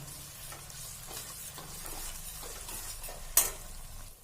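Spices roasting in a pan for a sweet-and-sour carrot and cauliflower pickle, a steady low sizzle with soft scraping stir strokes and one sharper clack of the utensil near the end, no voices.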